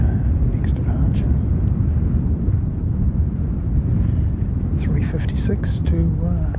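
An airliner departing for Wellington roars steadily in a low heavy rumble throughout, loud and continuous with wind buffeting, while a person speaks over it.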